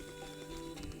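A steady, quiet mechanical whir with a constant hum, like a sewing machine motor running continuously without pauses.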